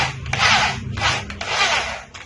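A bit bores into PVC pipe for a homemade walking frame, giving three close, loud rasping grinds in a steady rhythm, each about half a second long with short gaps between.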